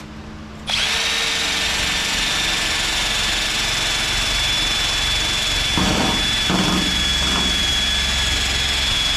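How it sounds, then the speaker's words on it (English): A soft-bristle wire wheel on a power tool strips metal on a 1969 Dodge Charger, spinning up abruptly into a loud, steady high whine with a bright tone, with a few short scraping bursts of contact partway through. "And then I get a soft wire wheel, not the hard braided ones"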